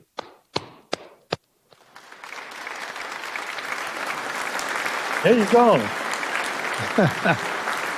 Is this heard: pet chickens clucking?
no